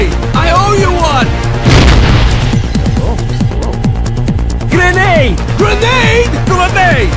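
Booming grenade blasts in a chaotic video game, heavy thumps and bursts rolling continuously under shouted voices and game dialogue.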